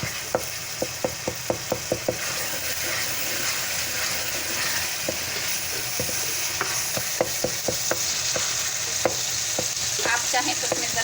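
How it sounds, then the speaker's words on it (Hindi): Chana dal and bottle gourd frying in oil with browned masala, a dense constant sizzle topped by bursts of quick rhythmic spoon taps and scrapes against the pot, close up, no voices. "अब इसमें हम चने की दाल लौकी ऐड करेंगे।"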